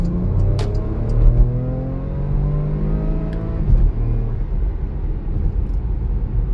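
A car with a dual-clutch transmission accelerates hard, its engine note climbing steadily before a gear change drops the pitch and the rise begins again, heard from inside the car with a constant road rumble underneath.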